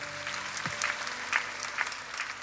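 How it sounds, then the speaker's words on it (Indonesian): A church congregation claps steadily, a mid-level wash of many hands with a few louder claps standing out, and no voices over it. "Beri tepuk tangan untuk Tuhan kita."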